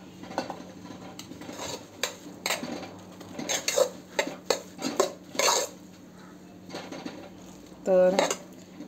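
Cooked rice is stirred into egg fried rice in a pan, with repeated clanks and scrapes of a metal spoon against the pan over a faint sizzle and a brief bout of speech.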